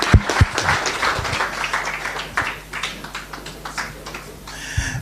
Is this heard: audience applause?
yes